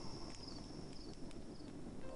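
Horse hooves clip-clop steadily in the video game Half-Rats: Parasomnia, a continuous close walking rhythm over a dense, windy background.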